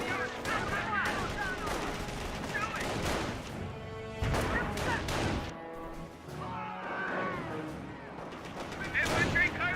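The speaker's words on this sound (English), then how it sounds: "Panzer Grenadiers firing away." Panzer Grenadiers exchange rapid small-arms and machine-gun fire in the Company of Heroes video game, with repeated close bursts and crashing impacts spread across the clip, and a commentator talking over the battle.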